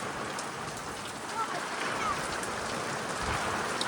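Heavy rain pours steadily during a cyclone storm at Sangvi near Tuljapur, a dense, even hiss of downpour heard from somewhat far off at low level.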